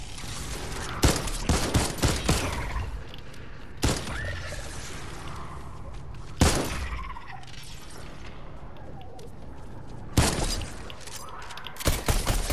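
Bursts of gunfire while shooting zombies in Fortnite, sharp loud cracks spaced every few seconds, sometimes in quick clusters, over a steady game background.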